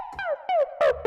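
Synthesized Simmons-style electronic tom hits, four short pitched drum tones with downward-sweeping pitch, played in an irregular sequence, loud and close with no other sounds.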